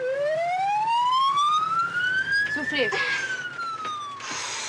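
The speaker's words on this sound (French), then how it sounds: "On t'emmène en ambulance pour faire la route." An ambulance siren wails in one long rising and falling sweep, loud and close, as a voice briefly speaks over it alongside some road noise.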